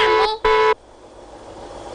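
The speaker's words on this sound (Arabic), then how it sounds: "بس عمو بتزمر لي شوي مشان الوحوش تخاف وتهرب؟" A car horn sounds two loud, close honks, a short one and then a longer one, before the engine noise carries on quietly underneath.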